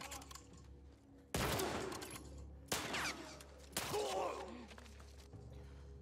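Gunfire in The Last of Us Part II: three loud, separate shots about a second apart, each bursting sharply and fading, over a low steady background hum with no talking.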